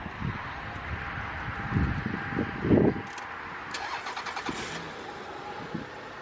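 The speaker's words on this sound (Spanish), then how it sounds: "A ver si prende el carro." A car engine cranks over for a couple of seconds and then catches and settles into a steady idle, heard close by with faint wind in the background.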